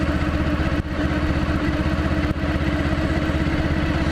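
A Honda Pan European motorbike in fourth gear chugs slowly uphill, its engine giving a steady low, lumpy throb with a faint mechanical clatter and no talk.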